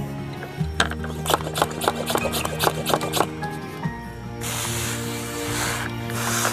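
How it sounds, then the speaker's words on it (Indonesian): Water is sprayed onto a freshly planted aglaonema cutting in a husk-based potting mix, a steady close hiss of misting that follows a stretch of clicking and handling noises. "kita semprot biar seger"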